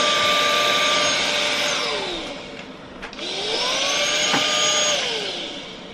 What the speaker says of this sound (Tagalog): So, gumagana na yung ating vacuum na yan.